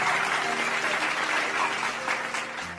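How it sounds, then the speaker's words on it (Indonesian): A group of children applauds at an Eid gathering, a dense, steady burst of clapping that continues for a few seconds before tapering slightly, with no talk over it. "Tepuk tangannya lagi dong."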